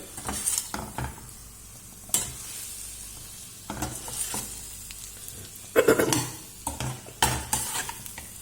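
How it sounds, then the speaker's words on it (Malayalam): Fried fish pieces tossed and stirred in a pan of sizzling masala for a pickle, with repeated scraping and clanking strokes of a spoon over a quiet crackle, close up and without talk. "വറുത്ത് വെച്ച മീൻ ഇട്ടിളക്കാം"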